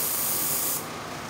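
Short hissing burst of an airbrush spraying, close and steady, then dropping to a softer, fainter hiss partway through.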